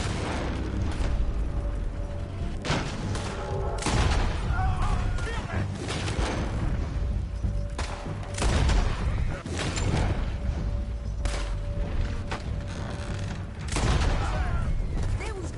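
Rapid gunfire from the Western video game Red Dead Redemption 2: repeated loud bursts of shots and booms spread across the whole stretch, mixed with shouting voices and ongoing game noise.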